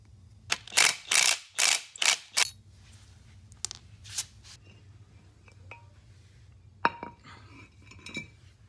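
Ratchet wrench backing out screws on a 1992 Honda hub and bearing assembly, a burst of several loud rapid clicks early on, then sparser metallic clinks and ticks over a low steady hum.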